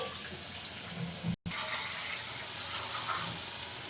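Water poured from a tap into a bowl to soften hardened paneer in a home kitchen, a steady close rushing flow with a brief break partway through.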